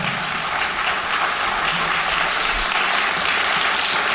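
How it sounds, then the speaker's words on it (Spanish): A church congregation applauds during a Sunday sermon, producing a dense, loud and sustained wash of clapping that holds evenly for several seconds with no speech over it. "¿quieres aplaudirlo fuerte para Él?"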